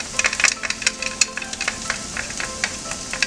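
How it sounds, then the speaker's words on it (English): Minced garlic and onion sauté in a pan, a soft continuous sizzle broken by frequent light clicks and scrapes of a spoon stirring, close by with no talking. "I'm gonna add in the minced garlic."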